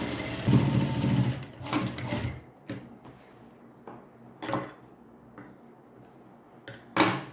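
A sewing machine stitches a pair of pants in a few short bursts. The loud whirring runs come early and then again near the end, with quieter handling noise in the pauses between them.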